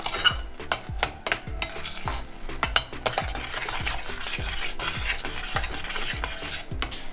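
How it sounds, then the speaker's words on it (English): A spoon scrapes and stirs thickening semolina sheera in a pan as sugar is mixed in, with rhythmic rasping strokes and a soft sizzle close up, no talking. "and now I'm going to add the sugar. And then we're just going to mix that in."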